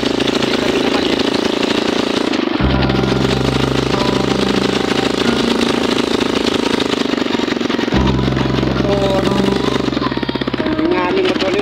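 A motorcycle engine idles close by with a steady low throb, its rumble stepping up and down in level a couple of times, loud and continuous throughout.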